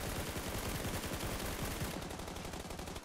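Rapid automatic spray fire in PUBG Lite, a dense continuous burst of close, loud gunshots with no pauses, the shots running together for about three seconds.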